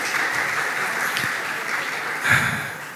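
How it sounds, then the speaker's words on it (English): A conference audience applauds a speaker after a Q&A session, moderate, steady clapping with a brief louder swell near the end. "Once again, give applause for the Dr."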